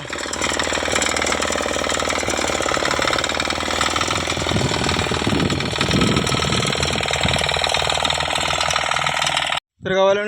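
A loud tractor engine runs steadily close by, a rough, rattling diesel chug that continues for several seconds before cutting out abruptly near the end.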